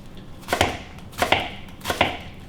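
A knife chops through food on a cutting board while dicing ingredients for shepherd's pie, giving three distinct, evenly spaced thuds up close.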